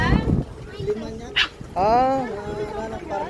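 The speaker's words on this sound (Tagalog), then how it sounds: "So guys, ang daming aso." Dogs bark and yip in short bursts at a free anti-rabies vaccination event, including a Shih Tzu, with a high whimper in between and people talking nearby.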